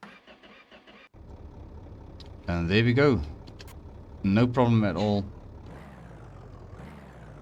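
A rebuilt diesel engine idles steadily after starting, a continuous mid-pitched running drone heard close up, with someone speaking briefly over it twice.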